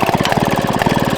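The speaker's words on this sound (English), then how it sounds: "It's a hit and miss motor." Small hit-and-miss engine running after a kick start, a steady rapid low chugging thump, loud and close with no talk.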